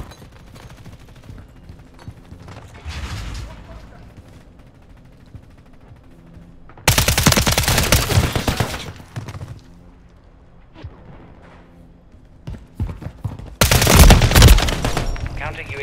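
Gunfire in the Call of Duty: MW3 video game, with a quieter opening of scattered shots before two loud bursts of rapid automatic fire and crashing impacts at close range.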